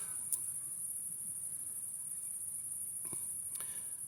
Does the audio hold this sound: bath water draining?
no